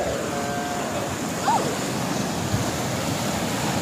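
Rough sea waves break and wash continuously onto a beach made of shells on an island off Udupi. A broad, steady roar is mixed with wind buffeting the microphone, with no clear voices over it.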